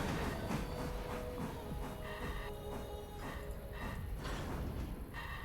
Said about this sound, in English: We're gonna stop the train.